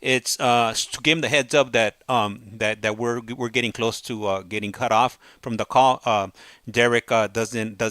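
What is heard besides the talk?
None of the usual background noises is heard.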